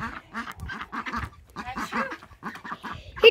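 Ducks near a pond give a rapid series of loud, close quacks, repeating in short bursts with little pause.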